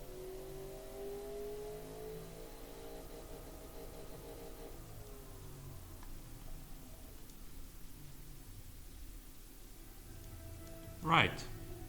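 A simulated turbocharged AMW Tiger engine in the game Automation revs toward its 6900 rpm limit, a faint droning tone over hissy background noise, ending with a sharp click.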